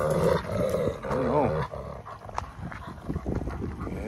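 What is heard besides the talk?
rescue wolfdog growling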